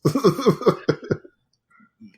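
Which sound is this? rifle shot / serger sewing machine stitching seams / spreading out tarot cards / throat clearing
throat clearing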